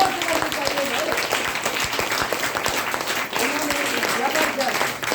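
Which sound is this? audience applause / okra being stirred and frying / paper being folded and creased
audience applause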